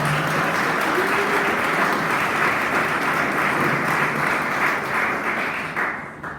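A Portuguese-speaking church congregation applauds during a sermon, loud and sustained clapping filling the room for over six seconds, with faint voices mixed in and a slight fade at the end.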